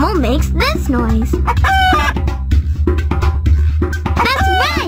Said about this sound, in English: That's right! It's a chicken!